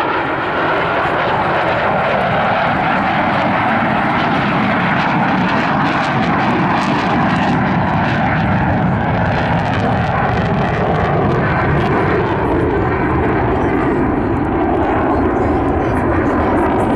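Saab SK-37 Viggen jet at the Southport airshow, a loud, continuous roaring rumble that fills the air for the whole stretch, steady and heavy, with a commentator's voice faintly mixed in beneath it.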